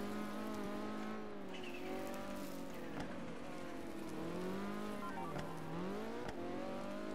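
A low-slung car in a Roblox racing game drives over dirt, its engine note rising and falling continuously through gear changes, loud and steady with no talking.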